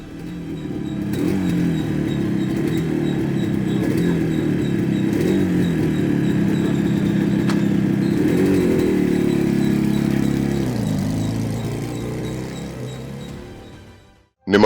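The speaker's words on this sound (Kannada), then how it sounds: "ಅವರ ತಂದೆಯೊಂದಿಗೆ ಅಣ್ಣನ ಬೈಕ್ ಏರಿ ಧ್ರುವ ಸರ್ಜಾ ರೈಡ್ ಮಾಡಿದ್ದಾರೆ" A motorcycle engine runs steadily while being ridden, a mid-pitched drone holding fairly loud for about ten seconds before easing down and fading out, with no talk over it.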